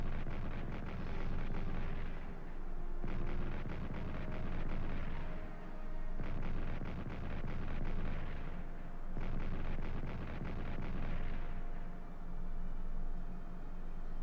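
Artillery fire in Strategic Command: World War I, four heavy booming blasts spaced a few seconds apart, each with a long rumbling tail, loud and alone without talk.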